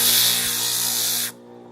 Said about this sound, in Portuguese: você usa a lixadeira de disco aí para poder acertar